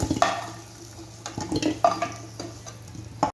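Potatoes frying in oil in a pan while making a Bengali katla fish kalia, with soft sizzling broken by a few close stirring scrapes and clinks, and no voices.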